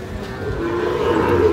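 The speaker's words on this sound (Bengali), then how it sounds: "শাহিওয়ালের বাচ্চা।" A Sahiwal bull calf at a cattle market lets out one long, loud, close moo that rises and holds to the end.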